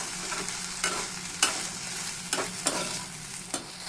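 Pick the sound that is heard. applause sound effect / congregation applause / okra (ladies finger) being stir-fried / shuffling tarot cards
okra (ladies finger) being stir-fried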